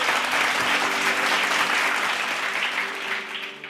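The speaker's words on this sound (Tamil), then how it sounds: "கைத்தட்டு" Enthusiastic applause from a congregation during a Tamil Sunday church service, a dense, steady clapping that fills the room and fades slightly toward the end.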